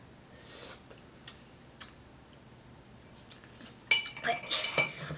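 A metal spoon clinks against a glass of chocolate milk in a few sharp, separate taps, followed by a busier burst of rapid clinking and scraping near the end, over quiet background.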